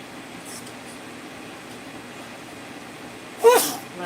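A single sharp sneeze bursts out near the end over a quiet background hum.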